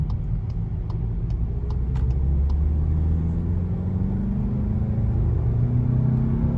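A 2021 GLI Autobahn with DSG gearbox in comfort driving mode rumbles steadily from inside the cabin, with a low drone slowly rising in pitch and faint ticking clicks early on.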